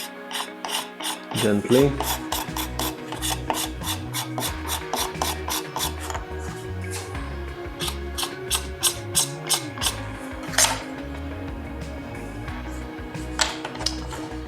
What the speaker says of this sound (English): I'm going to scrape it now